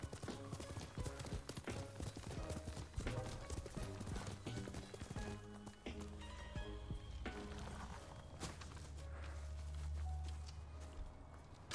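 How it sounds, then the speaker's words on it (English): Horse hooves clip-clop steadily in the video game Ghost of Tsushima, a continuous trotting rhythm over dense game music and ambience, fairly loud and close throughout. "Horse."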